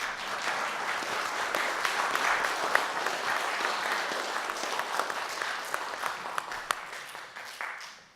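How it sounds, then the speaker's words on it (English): An audience gives a long round of applause for standing board members at an investment talk, an even, moderately distant clapping that fades out at the end. "please, if you could stand up for a big applause"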